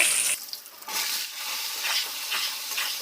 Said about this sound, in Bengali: আমি আলুগুলো লাল লাল করে ভেজে নেব